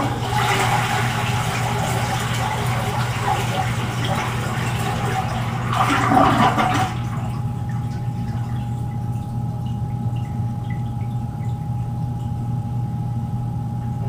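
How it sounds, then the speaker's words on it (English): A rusted toilet flushing after its water valve is shut off, a steady loud rush of draining water over a constant hum, with a brief surge before the flow cuts off and the hum continues alone. "I'm just going to flush it."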